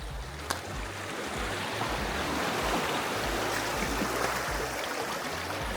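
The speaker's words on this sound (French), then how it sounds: "Les petites vagues qui me chatouillent les genoux là" Small sea waves lap and swirl around a person's knees, a continuous close wash of water that stays steady for several seconds after one brief knock near the start.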